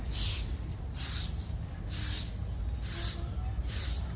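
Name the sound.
broom sweeping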